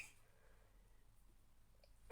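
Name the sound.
sneeze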